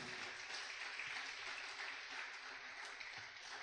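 Church congregation clapping during a sermon, a dense, even burst of applause sustained throughout, with no one speaking over it.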